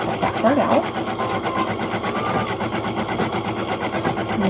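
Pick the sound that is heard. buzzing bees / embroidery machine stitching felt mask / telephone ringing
embroidery machine stitching felt mask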